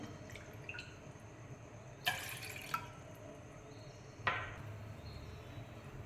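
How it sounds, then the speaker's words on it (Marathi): Water is poured into a cooking pot to boil for sago kheer, heard as a few short splashing bursts and drips with quiet pauses between them, close by and moderately soft. "या एक वाटी साबुदाण्यासाठी आपण पातेल्यात दोन वाटी पाणी उकळायला घालायचं"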